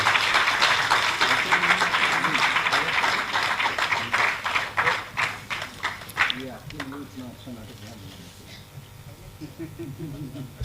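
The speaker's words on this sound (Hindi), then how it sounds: "सभी के उत्साहवर्धन के लिए हम निरंतर तालियां बजाते रहें।" Audience applause at a live theatre performance, dense sustained clapping from a crowd that thins into scattered claps and fades, with a voice talking over it toward the end.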